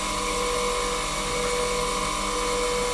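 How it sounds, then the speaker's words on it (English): A grinder sharpening the flutes of a milling cutter gives a steady, high-pitched whine with a constant tonal hum, continuous and close with no talk over it. "I'm just advancing the cutter here, listening for the grind."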